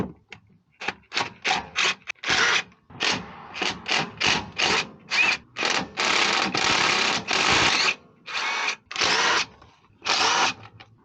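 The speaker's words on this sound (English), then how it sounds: "I'm going to loosen up the filling plug first" A power tool, likely an impact driver or drill, loosens the differential fill plug on a GMC Sierra, running in repeated short bursts of loud whirring with brief pauses between them.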